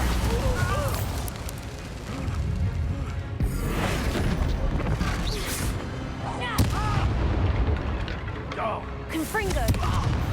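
Confringo fire spells go off in Hogwarts Legacy amid a busy battle, with repeated booming blasts and crackling impacts layered under shouted spell names and character voices.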